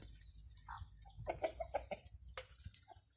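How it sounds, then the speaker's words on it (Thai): Breeding hens clucking close by at a Thai chicken farm in a quick run of short calls, with quieter rustling and farmyard background around them. "ไก่เนี่ยเลี้ยง นี่เป็นแม่พันธุ์"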